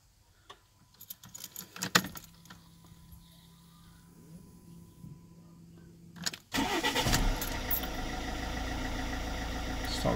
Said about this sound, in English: Start the car up again.